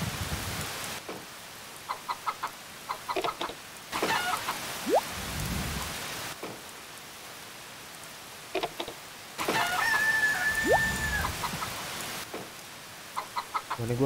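Chickens cluck in Harvest Moon Save The Homeland, in repeated short bursts of clucks alternating with a hissing, rain-like wash and a few higher chirps.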